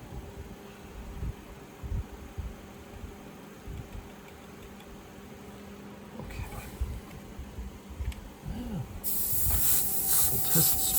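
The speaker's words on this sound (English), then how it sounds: "Test sprays here to kind of clear it out" An airbrush paint sprayer gives test sprays to flush out purple paint before a color change for a Storm Giant miniature; faint hissing and low handling noise build to a steady, louder spray hiss near the end.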